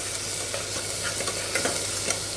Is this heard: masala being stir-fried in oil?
yes